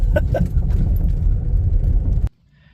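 A car rolls along a gravel and dirt road on Laurel Mountain Lane in Laurel Ridge State Park, Rockwood, PA, giving a steady close rumble of tires and engine with a few crunchy knocks, then cutting off abruptly near the end.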